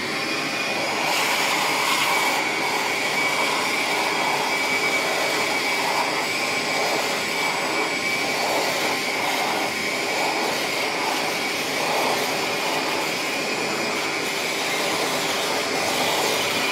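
A Ryobi 18-volt bucket-top vacuum runs steadily as it sucks up sawdust from a miter saw off a workbench mat, a loud continuous motor whine with airy rushing that holds level throughout, with no talk.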